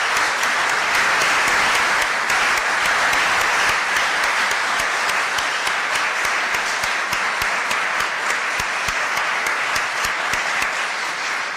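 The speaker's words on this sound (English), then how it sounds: "Let's give Dr. Landon, Dr. Lee, and Dr." A large audience applauds a panel of doctors at a press event, sustained dense clapping that stays loud and even throughout with no speech over it.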